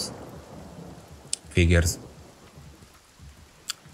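A rain scroll in the video game Divinity: Original Sin brings steady rain and then a sudden, loud thunder crack. A person speaks briefly over the storm.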